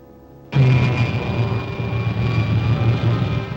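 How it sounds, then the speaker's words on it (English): A rocket's pilot jet fires in an old adventure serial, bursting suddenly from near quiet into a loud, sustained roaring rush that holds steady to the end. "Fire pilot jet."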